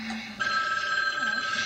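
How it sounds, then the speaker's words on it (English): A telephone bell rings loudly and close, a sustained electronic trill starting abruptly and continuing without pause. "the phone keeps ringing"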